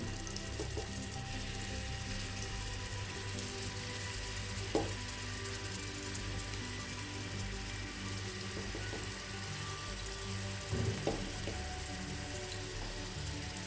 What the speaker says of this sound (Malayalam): ഈ മീൻ ഒന്ന് ഫ്രൈ ചെയ്തെടുക്കാൻ വേണ്ടിയിട്ട് ഞാൻ അടുപ്പത്ത് വെച്ചിട്ടുണ്ട്